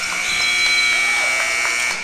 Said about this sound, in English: Oh, Tyler he almost made the late buzzer beater